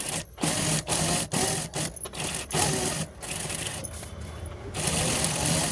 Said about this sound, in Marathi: चारही कड्यांनी शिलाई मारून घेतल्या